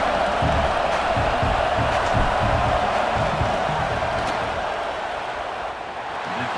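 A stadium crowd in a college football video game roars steadily through a field goal attempt, a loud continuous wash of cheering and shouting that eases slightly near the end.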